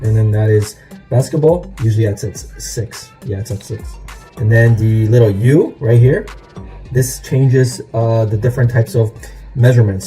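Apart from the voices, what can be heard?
None of the usual background noises is heard.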